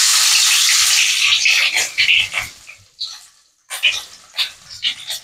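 Ginger dropped into hot oil in a pan, a loud hissing sizzle that fades into intermittent crackling bursts and short spatters, close by, with brief quiet gaps.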